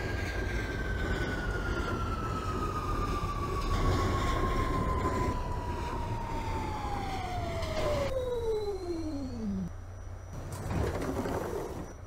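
An R46 subway car on the C line in the OpenBVE train simulator game, a loud steady rumble of the running train with a long descending motor whine that drops away as it slows, then the train rolls on.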